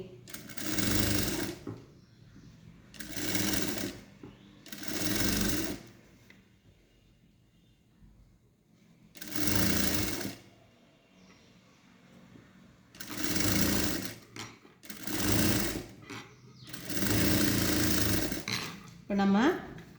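A sewing machine stitching a blouse, running in around eight short close bursts separated by brief pauses, fairly quiet overall.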